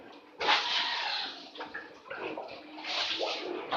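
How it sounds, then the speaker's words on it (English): Water pouring and splashing onto pigs in a pig farm pen, a steady broadband wash beginning after a short pause, with brief dips and surges as the stream shifts, fairly close and alone. "Pouring down water for their body to be cool because it needs water."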